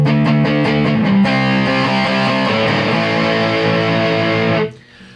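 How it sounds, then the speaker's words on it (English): Electric guitar played on the bridge pickup through a BBE 427 distortion pedal into a solid-state amp: a few quick muted picked notes, then a loud, sustained distorted chord ringing for several seconds before being cut off. "let's listen to that bridge pickup with some distortion"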